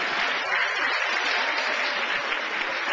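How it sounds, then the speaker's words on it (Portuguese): A church congregation claps during worship, a dense steady wash of hands at even strength across the whole stretch, with faint voices mixed in underneath. "aplauda Jesus Cristo, ó Santo de Israel"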